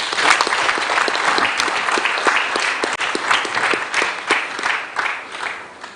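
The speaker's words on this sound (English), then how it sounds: "I think we should recognize them with a clap offering." An audience at a book launch breaks into loud, close applause, dense overlapping claps that swell and then gradually thin out toward the end.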